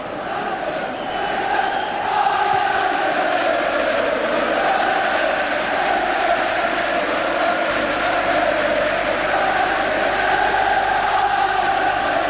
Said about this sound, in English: The sound of the crowd tells the story here. Jubilation at Old Trafford.